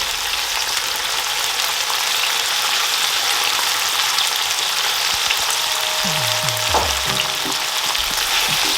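Thyme sizzling in hot oil in a pan while cooking Jamaican ackee and saltfish, a steady broadband frying hiss throughout with a few clinks of utensils and a brief stir near the end, close and fairly loud.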